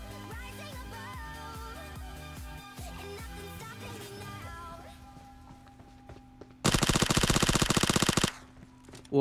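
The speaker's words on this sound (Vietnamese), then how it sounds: "Đạn bay đâu vậy?" Uzi submachine gun fire in PUBG Mobile at Pochinki: a long rapid burst of sharp, loud shots near the end, after tonal game music and quieter ambience.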